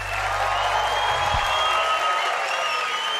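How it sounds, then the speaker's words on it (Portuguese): A studio audience on a Brazilian TV variety show applauds, a dense, continuous roar of clapping mixed with crowd cheering and whistles, with a brief low thump partway through. "Muito lindo, aplausos!"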